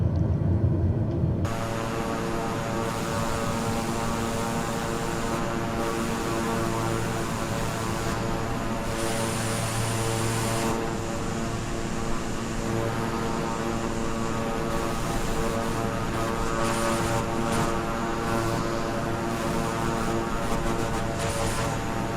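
Twin turboprop engines of a King Air 350 in Microsoft Flight Simulator, flying out of Atlanta: a continuous loud droning hum with steady propeller tones, alone, with slight shifts in intensity.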